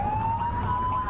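A police siren in The Precinct video game holds a loud, steady, slightly rising tone above a low engine rumble, with no talking over it.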